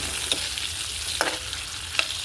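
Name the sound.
sautéing onion, tomato and garlic in a pan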